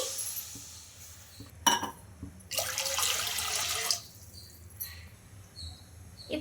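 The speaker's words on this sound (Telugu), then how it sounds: "ఇప్పుడు ఇందులోకి ఒక రెండు కప్పుల దాకా వాటర్ అయితే వేసుకోవాలి" About two cups of water pour steadily into a metal pan for about a second and a half, preceded and followed by light clinks and taps.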